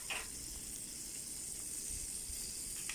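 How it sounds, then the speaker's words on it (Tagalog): Butter melting in a pan over low heat gives a faint, steady sizzle, a soft continuous frying hiss with a couple of brief louder crackles and no talking. "i-melt na natin yung butter. Uh, make sure na low heat lang tayo pa hindi masunog yung butter"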